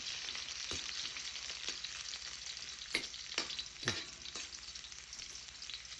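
Ginger fries and is stirred in a pan, giving a soft continuous sizzle with several sharp scraping strokes of the spatula at irregular intervals.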